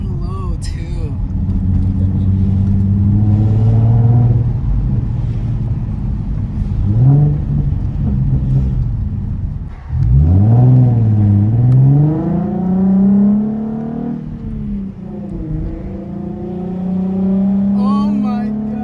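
Nissan 370Z Nismo fitted with a Tomei exhaust and Z1 Y-pipe, a deep, loud engine drone rising and falling through several revs, with voices talking excitedly over it.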